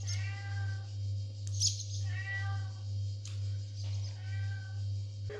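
A hungry cat meows repeatedly for food, three or four drawn-out cries spaced a second or so apart, fairly faint over a steady low electrical hum.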